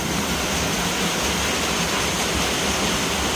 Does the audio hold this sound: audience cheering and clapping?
no